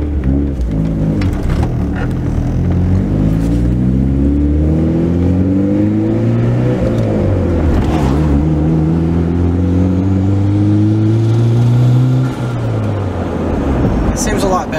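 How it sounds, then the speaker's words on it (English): An untuned Honda car engine revs up and down repeatedly, rising and falling in pitch, loud and close, with no talking over it. "Seems to be revving a lot easier."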